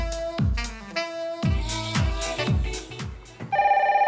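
A telephone rings in a series of repeated electronic ring bursts, loud and close, with a steadier tone at the end.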